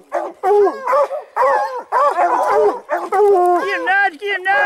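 Hunting hounds used for bobcat hunting in Colorado bark, yip and bawl close by in a rapid string of loud, overlapping calls.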